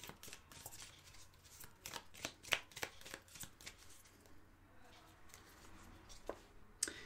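Tarot cards being shuffled by hand in a series of quick, crisp riffles and slaps, fairly close and clear over a quiet room, with no talking.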